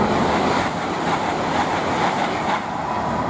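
Class 800 IET train 800-027 passing Goring & Streatley on the Great Western Main Line, a close, loud rumble of wheels and rushing air with faint clickety-clack rhythm.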